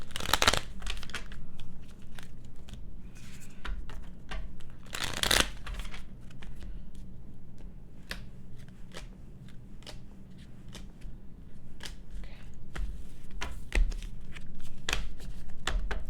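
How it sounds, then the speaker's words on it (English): Repeated riffles and flicks of a tarot deck being shuffled, close up, with sharp slaps and soft papery rustling between them, no talking. "I'll shuffle and pull."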